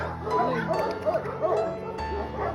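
A dog gives a run of short, close barks and yips in quick succession, with a brief whine between them.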